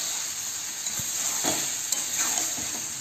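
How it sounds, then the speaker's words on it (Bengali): New potatoes and peas stir-fry with spices in a pan for dum aloo, a continuous close sizzle broken by a few scraping stirs. "ভালো করে মশলার সাথে আলুটাকে কষতে হবে।"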